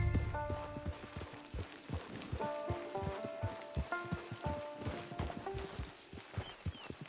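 A horse walking in Red Dead Redemption 2 Online, its hooves clip-clopping in a steady, close rhythm while soft background music plays underneath.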